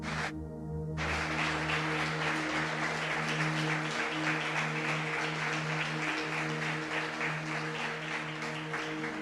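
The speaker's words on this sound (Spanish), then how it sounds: "Denle un aplauso a ellos" A church congregation applauds during a service, a sustained crowd clapping over a low steady instrumental hum, opening with a brief tonal chord before the hands take over.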